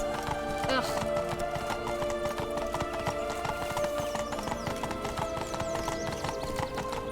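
Horses' hooves clip-clop steadily in The Witcher 3, with a whinny rising over a busy, dense game soundscape, and voices seem to be heard.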